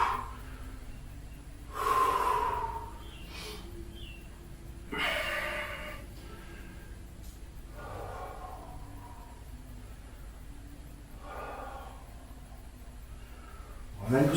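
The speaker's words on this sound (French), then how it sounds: "On expire profondément 3 fois." Deep, slow exhalations during a floor stretch in a bodyweight strength workout, three breathy whooshes spaced a few seconds apart, close and soft over a quiet room.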